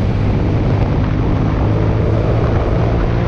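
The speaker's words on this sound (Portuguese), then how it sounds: "Mano, como que o motor 2 cilindros consegue subir a velocidade desse jeito?" Modified Yamaha MT-07 two-cylinder motorcycle engine accelerating hard on a road, a loud, steady, dense roar filling the whole moment with no speech.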